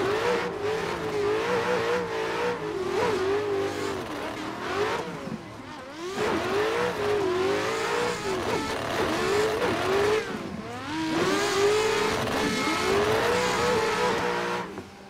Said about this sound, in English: S15 is so loud.